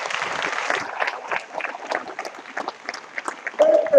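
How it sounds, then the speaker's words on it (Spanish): Audience applause in a Spanish-language church service, a burst of clapping from the congregation lasting a few seconds, with a voice rising briefly near the end. "Den un aplauso a Cristo."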